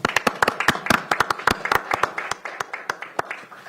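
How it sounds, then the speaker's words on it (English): A small group claps at a Pierce County, Washington council meeting: sharp, distinct hand claps at an uneven rhythm that thin out and slow toward the end. "Let's give them a round of applause."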